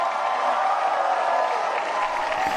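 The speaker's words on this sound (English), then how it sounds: "One more big cheer for Pope Francis." A crowd of young people at Singapore's Catholic Junior College cheers for Pope Francis, a sustained roar of many voices at steady volume that thins slightly toward the end.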